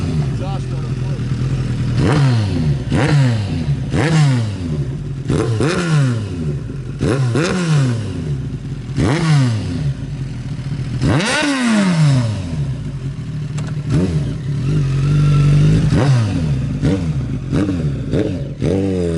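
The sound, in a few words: 1988 Kawasaki ZX1000-B1 Ninja motorcycle engine revving, exhaust note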